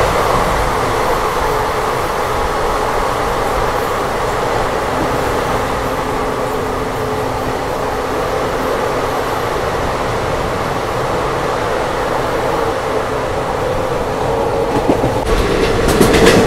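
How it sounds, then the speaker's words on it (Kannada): The Vijayapura–Yesvantpur Express at Munirabad railway station gives a steady, loud rolling rumble with rhythmic wheel clatter for the whole stretch, rising slightly with a screech near the end. "ಮುನೀರಾಬಾದ್ ರೈಲ್ವೆ ಸ್ಟೇಷನ್ ಸ್ಕೇಪ್."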